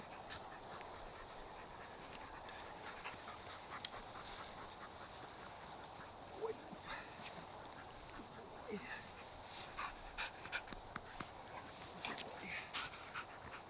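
Norwegian Elkhound dogs pant softly and steadily close by, with faint whimpers and small clicks scattered through, quiet throughout.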